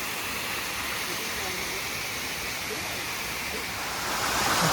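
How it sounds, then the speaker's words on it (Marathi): Small waterfalls and streams rush along the hillside trail to KP Waterfall near Khopoli, making a dense, steady roar of water that grows slightly louder toward the end. "जागोजागी आपल्याला असे धबधबे किंवा ओढे तुम्हाला दिसतील या केपी वॉटरफॉलकडे जाताना"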